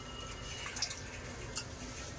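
Soaked rice for chicken biryani drops into a pot of coloured water in a couple of soft wet splashes over a faint steady background hum.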